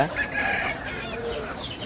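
A rooster at a Sankranti country-chicken market gives a few close, loud clucks, with faint voices in the background.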